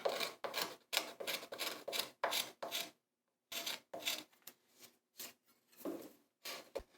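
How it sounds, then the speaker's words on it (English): A curved scraper smooths the contour of a wooden drawer pull in quick, rhythmic rasping strokes, about a dozen close, crisp scrapes separated by brief pauses and one longer gap. "When the contour is to your liking, smooth it off with a curved scraper."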